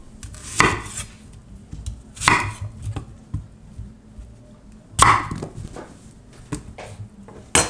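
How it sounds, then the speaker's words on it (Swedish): A knife chops through an onion on a cutting board, trimming off the root, with several sharp, close thumps spaced irregularly and soft rustling and board contact between strikes. "Skära bort roten."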